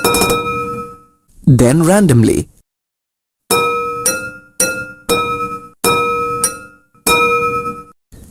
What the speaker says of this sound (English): Now tap each bowl with a spoon, first in one order.